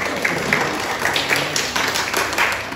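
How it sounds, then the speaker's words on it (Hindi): Applause from an audience at a hospital staff celebration marking a surgical milestone, a steady patter of clapping hands at moderate volume with no talk over it. "तालियां बजाई जाए"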